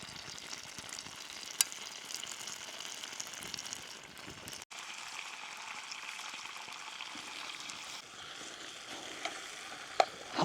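Bacon sizzles steadily in a pan over a twig stove burning damp wood in a forest, a constant close crackling hiss with a few sharp pops and no talking.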